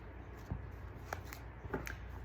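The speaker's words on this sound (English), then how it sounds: "I have pre-shuffled the cards, but I will shuffle them again for you." A deck of tarot cards is shuffled close up, with a few quick papery riffles and soft slaps in an irregular rhythm against a quiet background.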